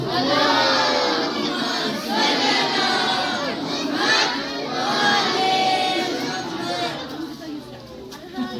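A large crowd at a 13 Rajab gathering honoring Hazrat Ali loudly recites salawat together in a sustained, swelling chorus of many voices that tapers toward the end.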